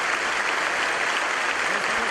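Church congregation standing and applauding in Santiago de Chile, thick continuous clapping that holds loud and steady, with no talk over it.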